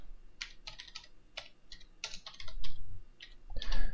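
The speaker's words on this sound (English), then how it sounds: "we're going to do that by typing in write host" Rapid keystrokes clatter on a computer keyboard in irregular bursts, close and crisp, with a couple of heavier key presses toward the end.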